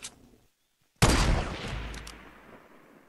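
In Fortnite, a loud burst of gunfire breaks out after a brief silence and its rumbling tail fades over about two seconds, following a faint sharp report at the very start.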